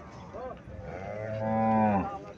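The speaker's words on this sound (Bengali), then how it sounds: "এটা ফিজিয়াম জাতের গাভী।" A Friesian cow gives a single close, drawn-out moo lasting about two seconds, rising into a strong tonal low.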